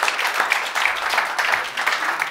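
Audience applause from a live studio crowd at a public discussion event, a dense, steady wash of clapping sustained at moderate level throughout with no voices over it.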